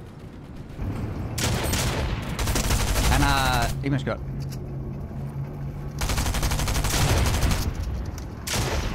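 Rapid gunfire bursts from a Fortnite match crackle loudly in two main volleys, with shorter shots around them, while players talk over the action.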